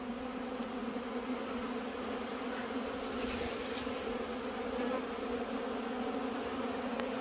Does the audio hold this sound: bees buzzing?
yes